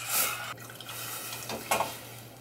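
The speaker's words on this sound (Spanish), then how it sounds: "Le voy a poner otro medio litro de agua." Half a litre of water is poured into a pot of tomato codito soup with chicken breast, a brief splashing gurgle over a sizzling background.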